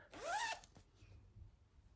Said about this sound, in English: Zip on the top